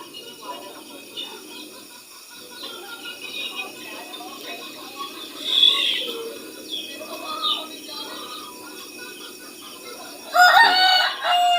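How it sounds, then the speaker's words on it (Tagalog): Chickens cluck steadily nearby while a rooster crows loudly near the end, with other birds chirping and faint voices in the background. "Maka tukain ng manok mga guys."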